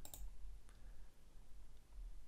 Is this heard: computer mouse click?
yes